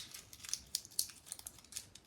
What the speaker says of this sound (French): Je vais tout simplement venir froisser